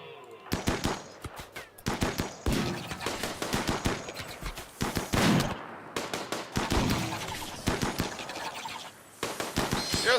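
Rapid automatic gunfire in a video game, heard as long bursts of sharp repeated shots broken by short pauses and running through most of the stretch.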